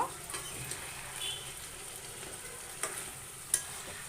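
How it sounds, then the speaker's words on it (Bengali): Chicken and peas frying together in a pan for kasha, a quiet continuous sizzle with a few soft stirring scrapes and one brief clink of a utensil. "এবার আবার ঢাকনা তুলে এটা নেড়ে চেড়ে দেব।"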